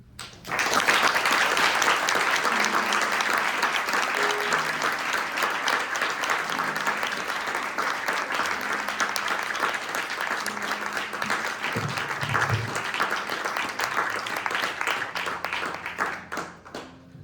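Sustained audience applause after a storytelling performance, loud and steady for about sixteen seconds, with a few voices and whoops faintly mixed into the dense clapping.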